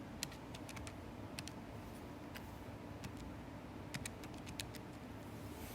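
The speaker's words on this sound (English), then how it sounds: "Just typing it in my calculator." Quiet, irregular clicking of calculator buttons being pressed in quick bursts while typing in numbers, close by over a faint background rumble.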